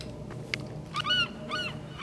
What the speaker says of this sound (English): The bird's trying to make me jump again. That's a seagull.